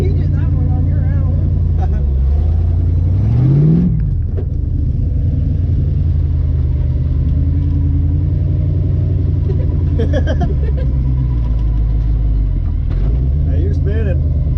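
An off-road vehicle on a Halloween trail ride revs its engine as the wheels spin, a loud close rumble with rising and falling engine whine, while people talk over it.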